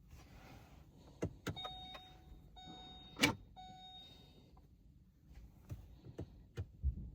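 A Vauxhall Corsa's electric handbrake motor drives the rear brake caliper, giving faint whirring runs broken by a few sharp clicks and knocks in a quiet workshop, with no one talking.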